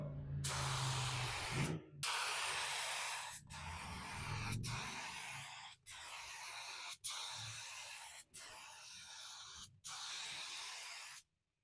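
Spray gun laying down Rustoleum multi-tone paint at 20 psi, moved fast from further away: steady loud hissing bursts, about eight passes each lasting one to two seconds, separated by short clean gaps, with no talk.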